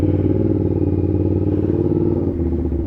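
A CFMOTO 450SR motorcycle idles just after a cold start, its engine holding a steady, close, throbbing idle before the tone shifts slightly near the end.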